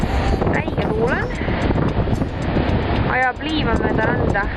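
Strong wind buffets the microphone on a beach while waves surge nearby, a constant heavy roar of wind and surf. A person talks over it in bursts.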